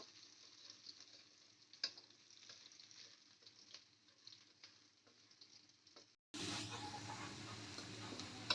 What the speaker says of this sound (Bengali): রসুন আর লঙ্কা কুচিটা দুটোকে আমরা হালকা ফ্রাই করে নেব